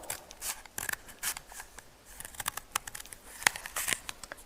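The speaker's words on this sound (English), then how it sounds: "you cut down with a pair of scissors" Scissors cutting through sellotape, a series of quick close snips and crinkly tape rubs in an irregular rhythm, fairly faint with no talking.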